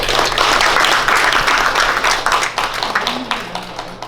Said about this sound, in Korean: 여러분 큰 박수로 우리 총재님께 다시 한번 박수 보내주시기 바랍니다